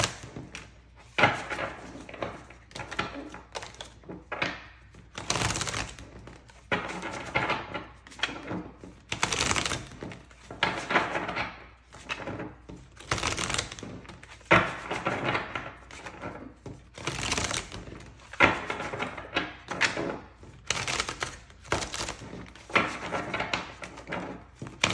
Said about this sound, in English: So I'm just going to give it a quick shuffle